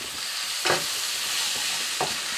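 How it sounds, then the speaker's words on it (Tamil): Mutton chukka mixed with cashew powder in a hot pan hisses steadily up close, with two or three sharper scraping strokes of a spoon across the pan. "ஸோ இதோட சேர்த்து நல்லா மிக்ஸ் பண்ணிக்கலாம்"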